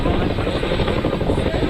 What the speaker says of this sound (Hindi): चिनूक हेलीकॉप्टर को आप देख रहे हैं